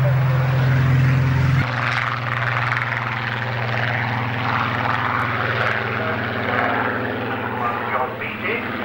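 A Fairey Swordfish biplane with its propeller engine droning loudly overhead at the Farnborough Air Show, a steady near roar with a sustained tone that shifts early on, under a commentator's voice.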